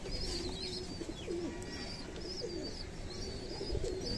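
Guldar pigeons feeding, their soft throaty cooing repeating over a steady dense bed of background noise, with faint higher chirps mixed in and no talking.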